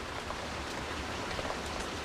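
Rain falling steadily outdoors in an old Beijing hutong, a soft, even wash of faint drizzle with no voices.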